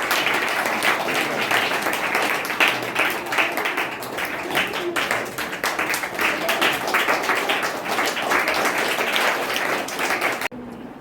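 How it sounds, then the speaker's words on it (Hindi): A crowd applauds continuously at a Hindi quiz competition, dense steady clapping that fills the room before cutting off abruptly near the end. "हम उस बहन का तालियों से स्वागत करेंगे।"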